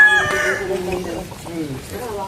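Chickens cluck and chicks peep nearby on a rural Aklan farm, a brief burst of fowl calls mixed with people talking over them.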